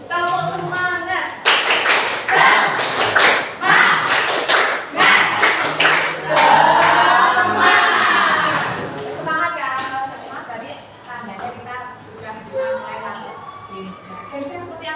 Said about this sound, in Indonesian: Kita tepuk semangat bersama-sama.